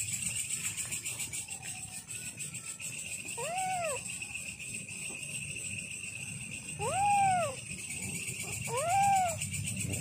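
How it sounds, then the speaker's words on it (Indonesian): A cat meows three times during a nighttime ghost-hunting outing, each call a clear rising-falling cry, moderately close, over steady insect-like hiss and low rumble, with no talk. "Masih di sana kucing nih."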